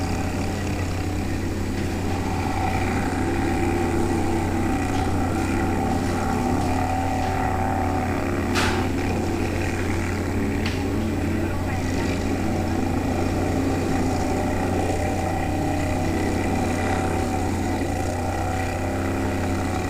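A racing lawn mower powered by a Chinese clone engine drones at a steady high pitch throughout, loud and close, with the constant hum of an engine held at speed.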